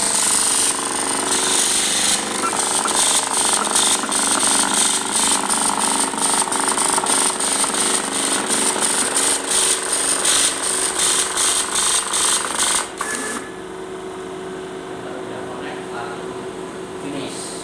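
A Printronix P7000/P5000 line matrix printer prints a test page with rapid, loud, buzzing hammering in dense rhythmic bursts for about thirteen seconds, then stops and leaves a quieter mechanical hum.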